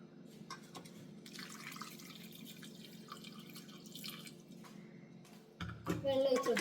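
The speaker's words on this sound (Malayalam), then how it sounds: "ഇനി നമുക്കിതിലേക്ക് ആവശ്യത്തിനുള്ള വെള്ളം ഒഴിച്ച് കൊടുക്കാം" Water poured into a pressure cooker holding pumpkin pieces, a soft trickling, splashing stream at low level, growing louder and fuller toward the end.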